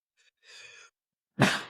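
A single sharp sneeze bursts out near and fairly loud indoors after a brief quiet breathy intake.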